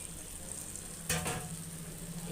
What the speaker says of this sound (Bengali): এবার আমি মগজটা দিয়ে দিই।